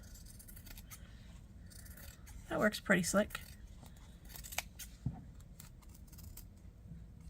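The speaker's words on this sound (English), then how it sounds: "We'll see if these scissors will work to do this." A couple of quick scissor snips cut through stiff foam core board, close up, followed by a softer snip, with someone speaking briefly.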